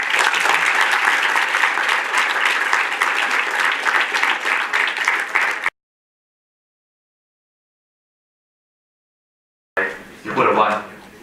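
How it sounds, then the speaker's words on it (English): An audience at a student union presidential election forum claps for the volunteers in a sustained round of applause lasting about six seconds, then cuts off to silence before brief talk resumes. "A round of applause to the volunteers."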